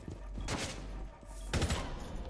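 Rapid gunfire in the Rainbow Six Siege video game comes in two close bursts of loud, overlapping shots, one after the other.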